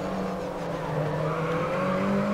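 Race car in Grid Autosport touring racing, its engine droning steadily with shifting harmonic tones as it sweeps through a corner, continuous and close throughout, with faint tire scrub beneath.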